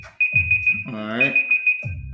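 A timer alarm on a game board rings as a steady high-pitched repeating electronic beep through the whole moment, while people talk loudly over it, the voices pausing briefly near the end.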